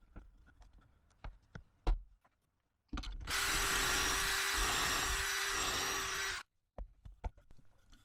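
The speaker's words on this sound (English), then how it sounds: "I'm going to put some pocket screws in there just to hold these battens in place." Power drill driving a pocket hole screw into a timber batten in a self-build campervan, a loud steady whir lasting about three and a half seconds, framed by faint workshop taps and knocks before and after.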